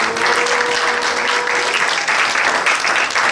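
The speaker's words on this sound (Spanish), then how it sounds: "Den un aplauso al Señor." Church congregation applauding, loud and sustained steady clapping from many people filling the room, with a faint voice underneath.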